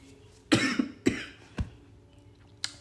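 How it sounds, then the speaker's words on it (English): Several sharp coughs, close by: a pair in quick succession, another, then one more after a pause, with a quiet background between them. "I have not coughed all this time."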